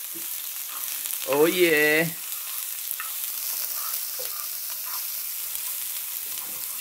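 Garlic and onion sizzle in a hot frying pan, a steady crackling hiss close up, with a man's brief exclamation over it early on.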